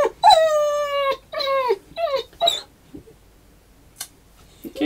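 A dog whimpers in several high, drawn-out whines, close and loud, over about two and a half seconds, then goes quiet apart from faint soft sounds that may be licking.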